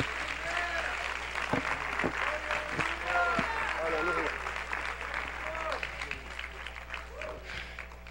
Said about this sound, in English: Would you clap your hands one more time to the Lord if you feel faith in your spirit?